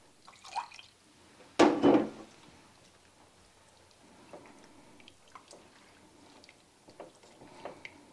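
Lemon juice is poured into a bowl of lemon pie filling, giving a brief splashing pour near the start followed by faint trickles and small drips in a quiet kitchen.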